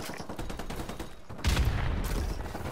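Video game gunfire cuts down enemies in rapid, rhythmic shots, followed by a louder burst or blast partway through, with no speech.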